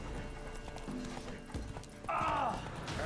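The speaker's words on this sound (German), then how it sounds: "Ja, und so reitet Geralt weiter durch die Steppe" Horse hooves clip-clopping steadily as Geralt rides across the steppe in The Witcher 3: Wild Hunt, a continuous galloping rhythm with game ambience and a faint neigh near the end.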